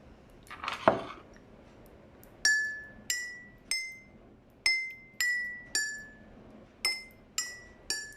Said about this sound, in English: you manage to make different pitches of sounds with your glasses, then why don't you see if you can make up a tune?